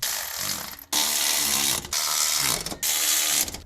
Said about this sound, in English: we're gonna go ahead and tighten it. It's a 14mm here.